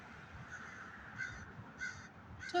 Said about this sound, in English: I hear some crows over here.